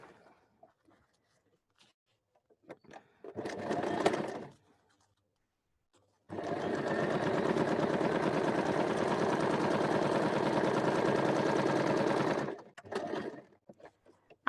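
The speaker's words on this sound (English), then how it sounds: "I'm stitching in a black thread, just so it's easier for you guys to look at" A sewing machine stitches two fabric panels together with black thread at a 0.5 cm seam allowance, first in a short burst and then in a long, steady whirring run of about six seconds, close and clear.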